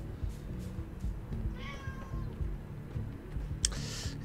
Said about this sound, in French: Miaou Nelson.